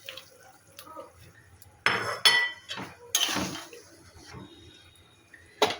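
Fried fish goes into a pot of boiling taro sour curry, giving wet splashes and soft liquid plops, with two stronger bursts among quieter bubbling and clinks, close at hand.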